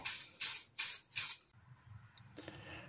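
Spray paint hisses onto an RC car body in four short, even bursts of camouflage paint, each about a third of a second, with quiet pauses between them, then low handling noise.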